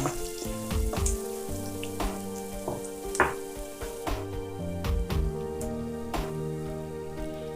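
Shallots and garlic sizzle and crackle in hot oil in a wok, with a steady frying hiss broken by scraping and stirring clatters.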